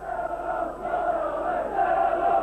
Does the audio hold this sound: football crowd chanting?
yes